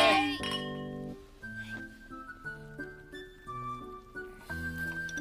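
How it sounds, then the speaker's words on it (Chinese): Glasses clink together in a toast at a hotpot meal among friends, a few light bright chinks heard quietly over a soft indoor background. "干杯！"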